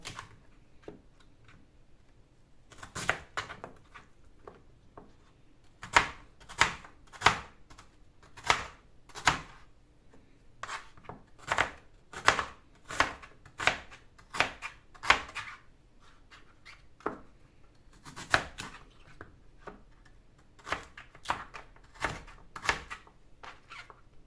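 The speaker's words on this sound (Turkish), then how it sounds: "Pancarım var. Pancarımı doğrayacağım." A knife chops beetroot on a cutting board in quick bursts of sharp, close knocks, pausing between runs, with faint kitchen background and no talk.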